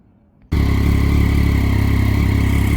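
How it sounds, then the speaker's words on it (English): A 2009 Triumph Daytona 675 motorcycle fitted with a HealTech quick shifter starts abruptly and settles into a loud, steady, close-up idle with an even engine hum and no talking. "we got the bike fired up"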